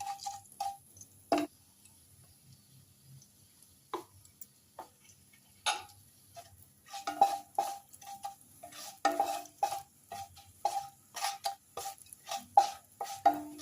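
Spoon or spatula stirring spices in a pan while making raw mango chutney, with a tempering and a pinch of turmeric: irregular scraping and clinking strokes, sparse at first and then rapid and close, over a faint sizzle.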